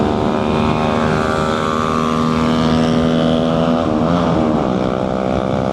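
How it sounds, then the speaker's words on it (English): A Yamaha RX 100 motorcycle fitted with an aftermarket exhaust drones loudly and steadily, its tone shifting slightly as it passes nearby on an evening road. "Someone in RX 100, I think it's RX 100 with an aftermarket exhaust."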